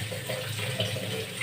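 Fruit is rinsed under a running kitchen tap, a steady close splash of water over the produce in a sink with no talking.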